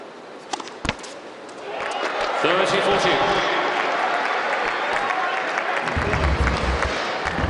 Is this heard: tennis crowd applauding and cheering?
yes